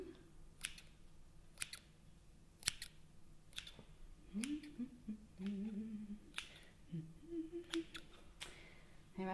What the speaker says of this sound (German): Schere. Achtung.